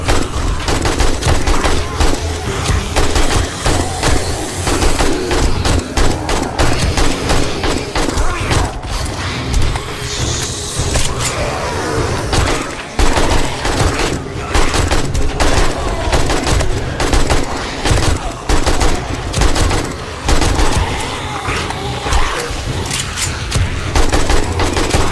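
Automated turret gunfire during horde night in a survival video game, dense rapid bursts of shots and clanking mechanisms going on nonstop for the whole stretch, loud and close.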